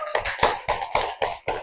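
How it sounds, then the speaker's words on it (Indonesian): A classroom group claps for the religion team after a correct answer in an Indonesian school lesson, with about seven sharp, separate claps spaced evenly over under two seconds. "Kita beri tepuk tangan untuk kelompok agama."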